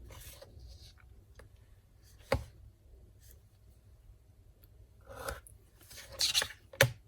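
Paper being cut with scissors for a scrapbook mini album, a few distinct snips and rustles separated by quiet gaps, with a cluster of sharper cuts near the end, close and fairly soft.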